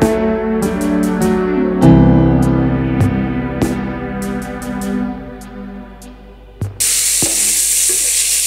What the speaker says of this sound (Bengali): এখন আমি একটা হাতার সাহায্যে এটাকে একটু ভেজে নেব।